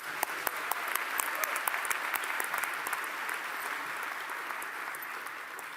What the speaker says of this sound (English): Let's give Anna and Peggy another round of applause